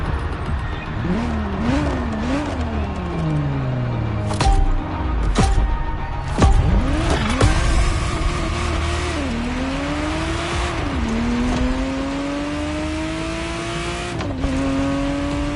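A Ferrari Testarossa driving in The Crew Motorfest racing game, engine revving up and down through repeated gear shifts with tire squeals, a steady loud drone throughout.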